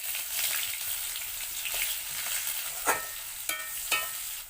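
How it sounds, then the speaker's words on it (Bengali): Chopped onions hit hot oil with caramelised sugar, cardamom, cinnamon, cloves, peppercorns and five-spice, giving a loud, continuous close sizzle broken by a few sharp stirring scrapes. "চিনি লাল হয়ে গিয়েছে, কুচিয়ে রাখা পেঁয়াজ দিয়ে দিচ্ছি।"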